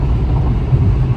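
Low, steady engine and road rumble inside a car stuck in traffic, a dense continuous drone heard alone and fairly loud with slight fluctuations.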